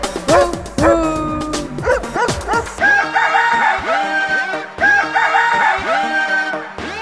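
Cartoon dog barks in a Hindi children's rhyme, set among bright musical tones and rooster-like crowing calls, loud and repeated across several seconds.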